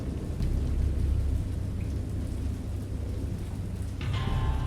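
A thunderstorm effect from an audio drama: steady heavy rain hisses throughout, with low rolling thunder rumbling underneath, loud and continuous with no voices.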